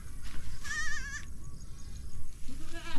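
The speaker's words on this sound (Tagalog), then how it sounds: "alamin muna natin ito mga kambing" Goats bleating on a rural farm, a couple of wavering cries close by with shuffling and background noise between them, plus a faint lower call near the end.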